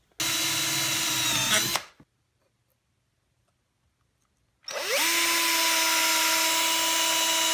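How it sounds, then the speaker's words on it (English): A power drill bores holes in a bent aluminum frame for a homemade quadcopter, running loud and steady in two bursts with a pause between, its whine rising as the motor spins up again. "I made this simple frame by bending the aluminum and drilling holes in it."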